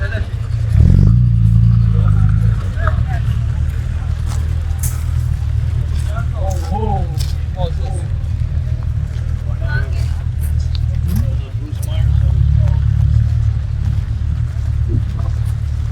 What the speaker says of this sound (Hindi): ये सुनिए आप, wonderful exhaust note from the Aston.